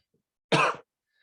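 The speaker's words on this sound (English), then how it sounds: "I'm still recovering a little bit from post-COVID symptoms, so I will be coughing a little bit today." A single short, throaty cough in near silence, from a person recovering from post-COVID symptoms.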